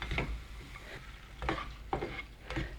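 Vegetables cooking down in about a tablespoon of oil in a pan for a tomato shepherd's pie, soft sizzling under repeated stirring scrapes every half second or so, quiet and close.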